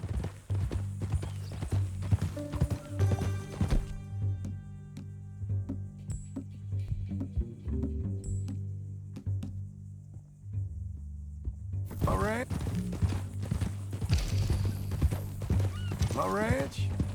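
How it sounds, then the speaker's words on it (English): A horse's hooves clip-clop at a walking pace in Red Dead Redemption 2, steady and fairly close, under in-game dialogue and a soft music bed. "That a new horse?"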